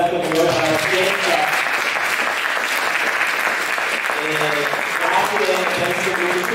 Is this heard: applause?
yes